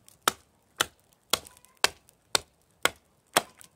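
A Hults Bruk Almike hatchet glancing off wood while carving, seven crisp evenly spaced chopping knocks about half a second apart, close and clear with no talking.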